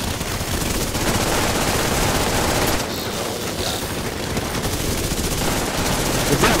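Sustained automatic gunfire in a video game rattles loud and continuous for several seconds, forming a dense, unbroken burst.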